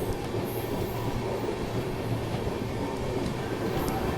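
Indian Railways train hauled by a WAG 9 electric locomotive rolling slowly past, a steady loud rumble of wheels and carriages with faint squeals.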